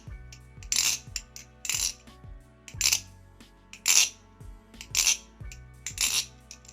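A Nabalis Tanto Hydra aluminum channel balisong with no oil, flipped repeatedly, gives bright metallic clinks and clacks in quick irregular bursts, close and crisp, with no voices.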